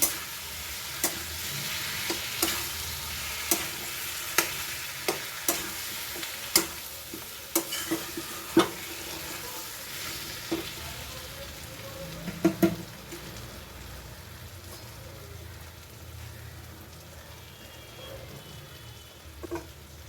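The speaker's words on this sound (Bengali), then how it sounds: "এটাকে আমি ভালো করে কষতে থাকবো" Ginger paste sautéed in a pan over medium heat, stirred steadily: a continuous sizzle with repeated sharp scrapes and clacks of the spoon against the pan, busiest early on, then settling into a softer, steady fry.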